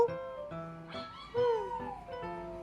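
A puppy on a TV video howls and whimpers in a string of short, high, wavering cries with brief pauses between them, heard moderately loud through the television speaker with no talk over it.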